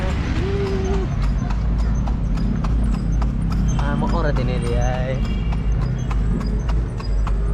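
Horse hooves clip-clop in a steady, close rhythm as a tartanilla carriage is pulled through Cebu, with a brief whinny and people talking throughout.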